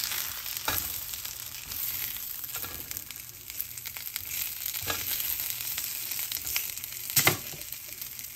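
Burger patties frying in a pan for a patty melt, a loud continuous close sizzle and crackle with a few sharper spatula scrapes and pops breaking through.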